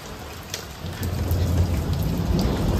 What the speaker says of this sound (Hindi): देखिए बारिश कितनी तेज हो रही है